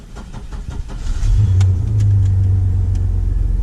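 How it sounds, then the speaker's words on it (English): A Chevy S10 or GMC Sonoma truck engine cranks with a rhythmic churning after a fuel pump replacement, then catches around midway and settles into a steady, loud, close idle. "It may crank for a little bit before it starts picking up."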